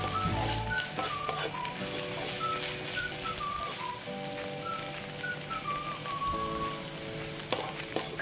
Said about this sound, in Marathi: आता आपण याच्यामध्ये 1 टीस्पून आलं लसूण पेस्ट घालणार आहोत। हे आपल्याला चांगलं परतून घ्यायचं आहे कांद्याबरोबरच।